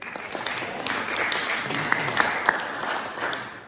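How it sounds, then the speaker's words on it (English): A round of applause from the crowd at a community event in Maldon, fairly soft and diffuse, a steady patter of many hands with a few sharper claps standing out. "So give them a round of applause."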